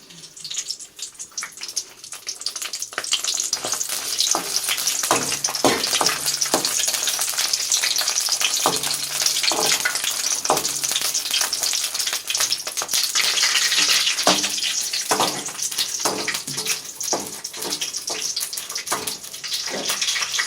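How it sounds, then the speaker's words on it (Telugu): Dried red chillies sizzle and crackle in hot oil for a loud, continuous fry, with occasional stirring clinks, close up in a kitchen while making an okra chutney. "అంటే ఇప్పుడు దోరకున ఎండుమిరపకాయలు వాడుకోవాలి"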